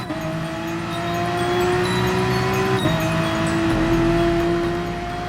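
Race cars in the Gran Turismo Sport game, a sustained engine whine rising slightly in pitch with a steady drone of a pack running close together, no talking over it.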